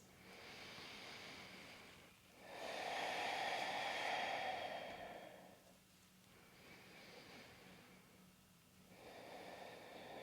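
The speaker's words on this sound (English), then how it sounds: "Let's take 3 more breaths." Slow, deep breathing during a restorative yin yoga session with legs up the wall, long airy inhales and exhales swelling and fading in a calm rhythm, close to the microphone and soft, without speech.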